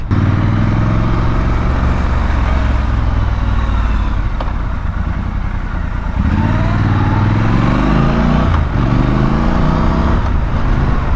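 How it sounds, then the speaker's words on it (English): A Triumph Scrambler 1200 XE motorcycle rides along, its engine loud and close with a steady rumble, shifting pitch as it accelerates and changes gear, with wind noise on top. "thank you for coming with me on this little ride out on this 1200 XE Scrambler from Triumph"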